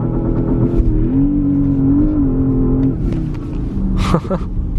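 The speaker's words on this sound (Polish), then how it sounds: "Ostatni raz launcha odpalam." A Porsche Panamera GTS heard from inside pulls away under launch control at night, the engine note holding a steady, loud rising drone, then dipping and surging again as gears change.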